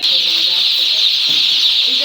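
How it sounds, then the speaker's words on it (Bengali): A dense, continuous chorus of high peeping from many broiler chicks at a poultry farm, steady and close throughout with no gaps. "দেখতে পাচ্ছ মুরগির বাচ্চা"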